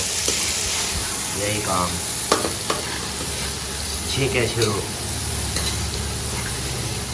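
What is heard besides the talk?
frying burnt onions and chillies tadka in a pan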